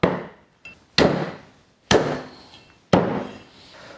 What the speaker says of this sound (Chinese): 把它宰来大小均匀就可以了